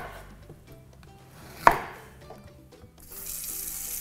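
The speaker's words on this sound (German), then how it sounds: "Für die Zucchini-Pralinen schneide ich zuerst die Zucchini in etwa 2 cm dicke" A kitchen knife slices through zucchini, cutting it into thick rounds about 2 cm wide. One sharp, quiet cut lands in near silence. Soon after, water starts running from a tap.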